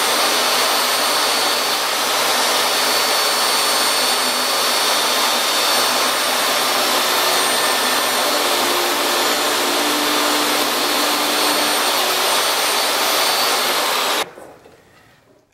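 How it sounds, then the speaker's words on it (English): A table saw trims a piece of 1/4 inch corkboard, giving a loud, steady whirring roar that holds for about fourteen seconds before the blade cuts off abruptly and the noise drops away. "I'm using my table saw to trim a piece of 1/4 inch corkboard."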